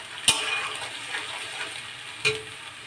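Onion, ginger and garlic paste frying in a pan, a steady soft sizzle with two sharp clinks of a spoon being stirred through it, close and alone.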